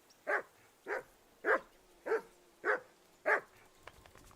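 A dog in the video game Kingdom Come: Deliverance II barks six times in a steady, evenly spaced rhythm, moderately close and clear over quiet background.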